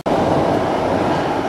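Metro train in France riding along, a loud, close, continuous rumble and roar inside the carriage, steady throughout the short stretch.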